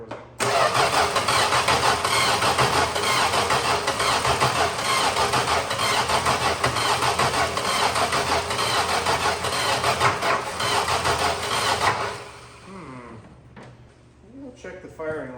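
A 1961 Valiant engine that sat unused for 30 years cranks over loud and close for about twelve seconds, its grinding churn steady before cutting out, with a voice speaking near the end.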